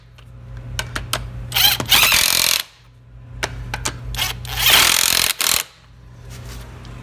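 A Milwaukee 1/2-inch impact wrench snugs lug nuts back up in two loud, close bursts of rapid hammering, with short ratcheting clicks before each burst.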